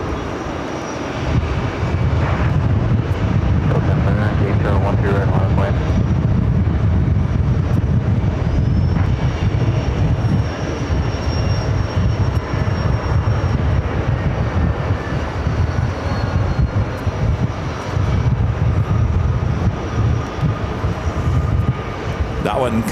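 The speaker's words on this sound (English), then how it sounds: "The Virgin A350 1000 flight committed from London Heathrow, touching down on runway 22 left, as well as this Delta A330 300." A Delta Airbus A330-300 airliner lands at JFK, its engines producing a loud, steady broadband roar that holds throughout, with someone talking over it.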